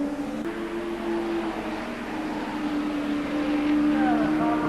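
A 1986 touring race car drives through a tight chicane with a wheel in the air, a steady engine drone holding close and loud with slight pitch shifts and no voices.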